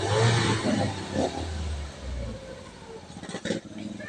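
A Ford EcoSport engine, checked for overheating, revs up to about 1500 RPM and settles back, a loud mid-pitched car engine rumble up close with a brief clatter near the end.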